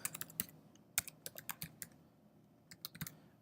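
Quick, light keystrokes on a computer keyboard typing an email address, irregular clusters of close, crisp clicks with a brief pause before a final flurry.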